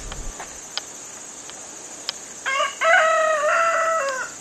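A rooster crows loudly and nearby, stretching out its call, while faint insect chirps and a few soft clucks come before it.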